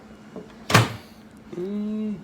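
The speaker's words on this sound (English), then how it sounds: "going to stick it in the microwave" A microwave door clunks open or shut once with a sharp thump, then the oven starts a steady hum, in a kitchen where a plastic pie pan holding a stick of butter is going in.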